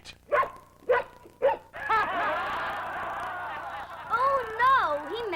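A puppy lets out three short sharp barks, then a drawn-out whimpering howl and a few wavering yelps, close and clear with a faint background tone.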